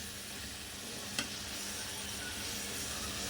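Carrots and beans are sautéed in a pan for a simple pulao, a soft, steady sizzle with faint stirring and a single small clink, quiet and without talk.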